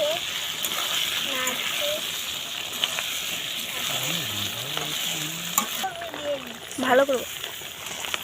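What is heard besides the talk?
ginger and cumin paste frying and being stirred in pan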